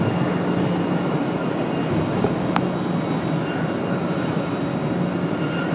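A Delta airliner arrives at Raleigh-Durham International Airport, its engines a steady broadband jet roar that holds evenly throughout, heard from a distance without talk.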